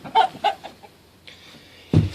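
Hens near wooden nesting boxes give a few short clucks close by, then a brief louder cluck after a quiet pause.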